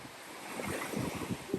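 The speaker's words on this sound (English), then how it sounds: "So there is a storm rolling in" Wind and surf roll in at a Turks and Caicos beach resort as a storm approaches. The sound is a steady, broad rush with gusts buffeting the microphone and no voices.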